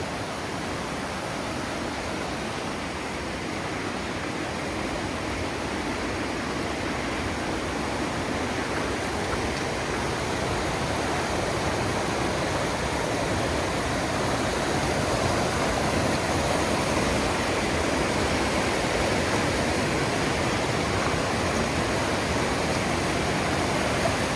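A river runs through a mountain valley, a steady, full rushing wash that stays loud and even throughout, with no voices.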